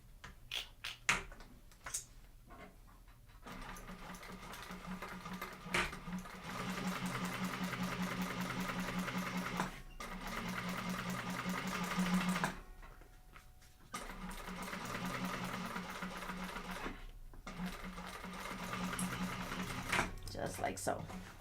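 Close by, a sewing machine topstitches along a pressed seam in bursts of steady rapid whirring, pausing briefly between runs, while a person speaks now and then.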